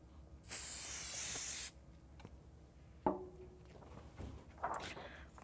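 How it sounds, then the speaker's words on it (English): A single steady hiss of a dye sublimation transfer spray can coating a transfer for about a second, followed by quieter handling noises and a few light knocks. "lightly coat the transfer with Conde Dye Trans Pro Spray"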